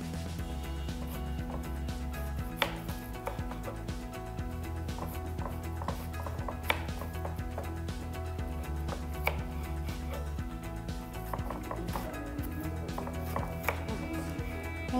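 A knife slicing an ingredient into pieces for a vegetable fish fry, quiet irregular taps on a board with light rubbing between cuts, close and without speech.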